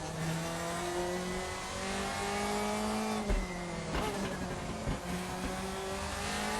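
A 2005 Mercedes DTM race car with high downforce drives the Nordschleife, its engine a loud, close, sustained drone with steady harmonic tones that dip and shift briefly as it goes over kerbs and changes gear.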